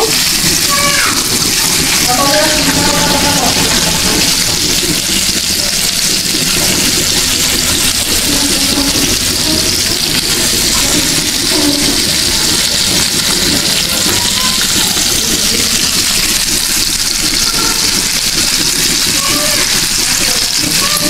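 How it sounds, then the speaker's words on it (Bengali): Pieces of rohu fish sizzle and spit in hot oil, a steady crackling frying noise that runs throughout with a busy, splashy texture and faint background voices. "মাছগুলোকে ভেজে নিব।"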